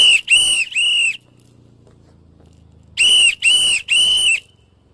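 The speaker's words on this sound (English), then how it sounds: "He's using their code whistle against them." Sharp, piercing whistle blasts at a street protest as a warning code: three quick loud blows, a pause with faint background noise, then three more in the same rhythm.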